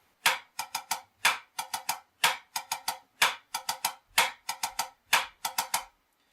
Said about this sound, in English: if I play very slowly the single drag pattern